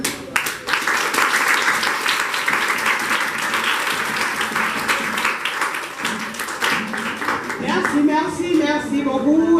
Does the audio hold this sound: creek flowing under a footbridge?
no